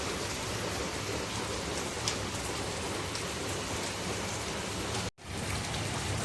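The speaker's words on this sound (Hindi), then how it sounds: "आ गई है धुआंधार बारिश" Heavy monsoon downpour during a thunderstorm, a dense, loud, steady roar of rain hitting surfaces with no voices, broken only by one brief cut near the end.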